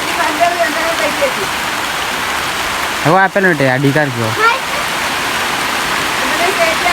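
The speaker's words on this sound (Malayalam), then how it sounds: "നല്ല മഴ പെയ്തു." Heavy rain pours steadily outdoors where a fish tank is being built, a dense, loud hiss throughout, with a person briefly talking over it midway.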